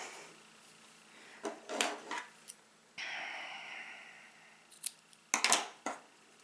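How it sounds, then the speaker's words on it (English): Scissors snip through a piece of paper trim for a Christmas card, giving several short crisp cuts, then a longer rustle and a few more close, quiet snips. "let me cut off a piece."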